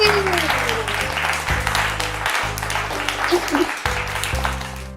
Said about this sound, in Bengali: টিম সির জন্য হয়ে যাবে চলে হাততালি